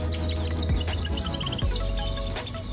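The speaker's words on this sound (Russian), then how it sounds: "Послушайте, как поют птички." Small birds sing in the high mountain village of Vilaflor on Tenerife, bright chirps and trills repeating over a steady low hum, moderately close with no talk.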